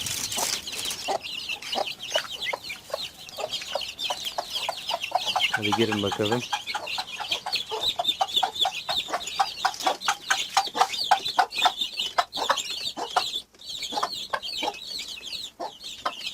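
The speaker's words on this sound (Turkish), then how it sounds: "Civcivlerimiz içeriye girmek için sabırsızlanıyor." Many chicks peep busily in a dense, steady chorus, with a hen's low clucking and a brief spoken phrase mixed in near the start.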